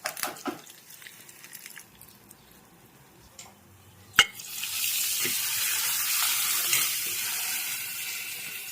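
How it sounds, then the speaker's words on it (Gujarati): Fenugreek seeds and curry leaves hit hot oil to temper kadhi, setting off a sudden loud, steady sizzle after a few quiet kitchen clinks, and the sizzle continues to the end. "સરસ મજાનો વઘાર થઈ ગયો છે."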